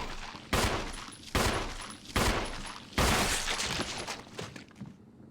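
Four heavy gunshots ring out in Resident Evil as the player fires at a zombie, each loud blast spaced roughly a second apart and followed by a short echoing decay, with no talking.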